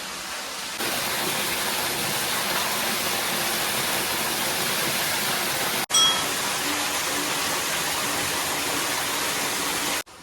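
Water from a stream flowing continuously at Jhareshwar Mahadev temple in Idar: a steady, broadband rushing that holds evenly, broken once by a brief sharp knock partway through.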